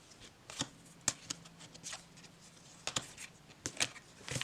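Playing cards from a collection being handled at close range, with scattered soft flicks and taps at irregular intervals and no talking.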